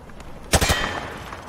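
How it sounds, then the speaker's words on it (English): Hip-fired automatic gunfire in Modern Warfare 2, a loud burst of several rapid shots near the middle, then a fading tail over a quiet background. "He sprayed bullets all over the damn place"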